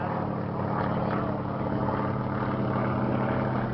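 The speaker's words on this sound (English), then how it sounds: "that Yak 55 above us is 77 years of age" A steady, loud engine and propeller drone from a Yak 55 aerobatic plane overhead at an air show, holding an even roar throughout with no talk.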